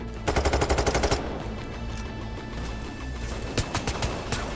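Rapid automatic gunfire from a Payday 3 heist shootout, a tight burst of about a dozen shots up front, then scattered distant shots over a noisy background, with a few more sharp cracks near the end.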